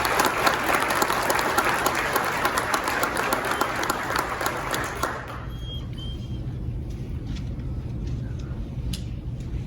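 Audience at a sheriff's department awards ceremony claps in sustained, dense applause for about five seconds, then it cuts off, leaving quiet room tone.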